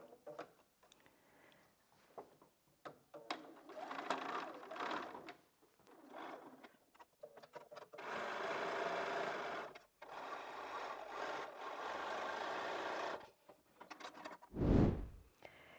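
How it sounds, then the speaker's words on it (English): A sewing machine runs in short bursts and then a longer steady whirring stretch as it stitches a quilt block seam, close by with brief pauses and a thump near the end. "So I'm just going to come back and sew that again, but I'm going to come at it from the other side"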